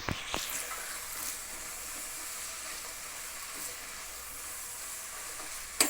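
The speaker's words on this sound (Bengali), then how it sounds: "এর মধ্যে এখন সবজিগুলো দিয়ে দেব।" Vegetables with green chillies and capsicum sizzle and hiss steadily in a frying pan for pasta, with faint scraping of a stirring spoon and a brief clatter at the end.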